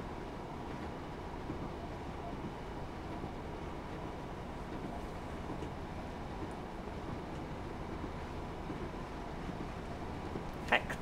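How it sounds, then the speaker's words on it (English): Class 156 Sprinter diesel multiple unit running at low speed over jointed track on the Wherry Lines between Lowestoft and Norwich, a steady rolling rumble with a faint click near the end. "You can, of course, hear the jointed track there."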